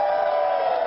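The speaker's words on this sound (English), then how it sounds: "a cheer went up from supporters on hand" Supporters cheer as pilot Andre Borschberg opens the doors of a single-seat solar-powered aircraft after landing in Hawaii from a five-day flight; a steady, dense crowd roar fills the whole moment without a break.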